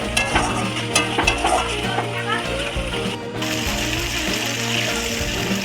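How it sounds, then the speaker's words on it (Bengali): Fried potatoes are stirred through a spice masala in a pan, with a steady sizzle under repeated scraping and clanking of the spoon, close and fairly loud, while a voice is faintly present. "আগে থাকতে ভেজে রাখা আলুগুলো মশলার মধ্যে দিয়ে ভালোভাবে কষিয়ে নেব।"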